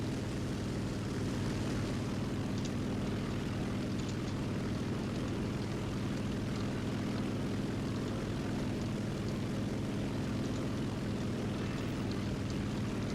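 An I-180S propeller fighter plane flies in the War Thunder video game, its engine a loud, steady, close droning roar that holds unbroken throughout, with no talk.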